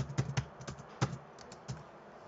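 Fingers type on a computer keyboard in a handful of quick, close, crisp keystrokes with short pauses between them, fairly quiet and with no talking.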